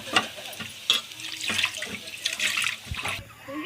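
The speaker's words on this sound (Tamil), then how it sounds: "புளி தண்ணி ஊற்றுறோம்." Tamarind water splashes and trickles into a pan with irregular pours and sizzling clatter, close by, with no talking.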